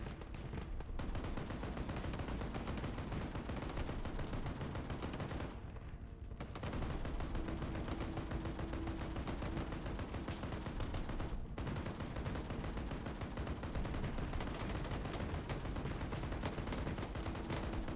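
Sustained .50 cal machine gun fire in a video game, loud and continuous with brief pauses near six and eleven seconds, otherwise an unbroken dense rattle.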